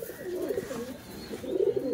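Pigeons kept for sale, including white Allahabadi and teddy birds, coo in low warbling rolls, close and steady, with a swell of louder cooing near the end.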